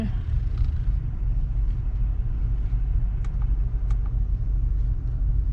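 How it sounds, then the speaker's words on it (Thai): Low, steady rumble of a 2020 Honda City 1.0 RS turbo engine idling quietly, heard from inside the car, with a couple of faint clicks and no talking. "จะให้ฟังเสียงเครื่องไป เสียงเครื่องนิ่งเงียบ นิ่งจริงๆนะคะ"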